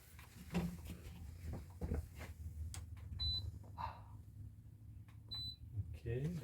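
A furnace thermostat gives a couple of short, faint electronic beeps after its power button is pressed, among quiet talk and handling noise.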